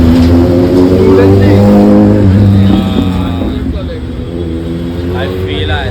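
A motorbike engine rumbles loudly and close by on a busy Andheri street, its tone shifting and easing off midway, mixed with crowd voices.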